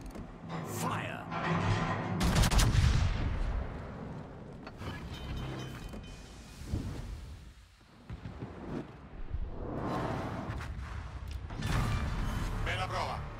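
Battleship main guns fire in World of Warships aboard the Tier 8 HMS Hawke, heavy booming blasts and rumbling roars rising and falling, with voices calling out over the action.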